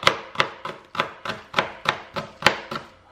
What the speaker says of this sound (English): I am going to cut up my celery